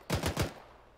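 Machine gun fire in a first-person military shooter game: a quick burst of three loud, close shots in rapid succession, followed by a fading echo tail, with no voices.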